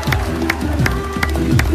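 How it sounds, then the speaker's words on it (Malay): Crowd at a Pakatan Harapan political rally for the Semenyih by-election claps and cheers, with regular sharp bursts of clapping over a steady murmur of voices and some speech mixed in. "Tuan Rahman, berikanlah tepukan yang paling gemuruh sekali lagi kepada Tuan Muhammad Aiman bin Zainali."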